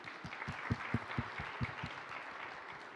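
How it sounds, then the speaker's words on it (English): Sparse, rhythmic clapping from a small audience at a sustainable energy conference panel. The claps are soft and spaced out and fade after a few seconds. "that round of applause is also for you, Kavita."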